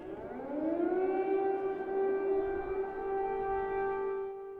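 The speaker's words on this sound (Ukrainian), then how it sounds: "За рік війни повітряні тривоги для українців вже стали буденними." An air raid civil defense siren wails in Ukraine, rising from a low pitch to a sustained loud steady tone that holds for several seconds before starting to fade.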